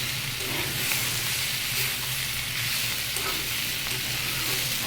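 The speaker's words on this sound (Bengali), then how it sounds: "এবার এটাকে ভালো করে মিশিয়ে নেব।" Yardlong beans and potatoes for a vegetarian curry are stirred in a hot pan, giving a dense, steady sizzle with a soft scraping beneath it, loud and close throughout.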